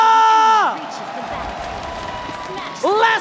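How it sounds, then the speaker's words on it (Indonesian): A crowd in an esports arena at a Mobile Legends grand final claps and cheers, a sustained broad roar between bursts of an announcer's amplified, gliding voice. "mana tepuk tangannya?"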